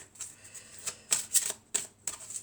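Oracle cards being shuffled by hand, giving a quick series of crisp riffling flicks and slaps in an irregular rhythm, close and fairly quiet.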